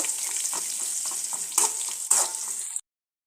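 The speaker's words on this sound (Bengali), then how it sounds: "কাঁচামরিচ ফালি করে দিয়ে দিচ্ছি, রসুন কুচি করে ভালো করে নেড়ে ছেড়ে দিচ্ছি।" Sliced green chilies and chopped garlic fry in hot oil in a home kitchen, a steady close sizzle broken by a couple of louder stirring scrapes before it cuts off abruptly.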